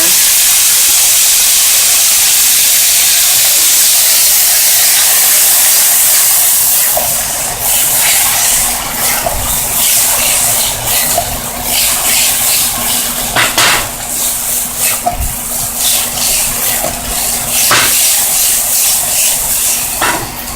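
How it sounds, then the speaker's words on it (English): Water poured into a hot pan on a high flame gives a loud, steady steam hiss for several seconds, then a softer sizzle with scattered clinks of metal cookware nearby. "First I'm gonna put some water in here."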